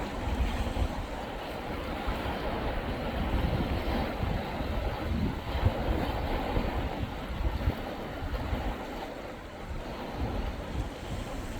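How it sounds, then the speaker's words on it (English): Wind buffets and rumbles across an outdoor microphone in steady, uneven gusts beside the Klamath River, with a low roar like surf underneath and no talking. "those little wind gusts come up. Almost kind of blows me over a little bit."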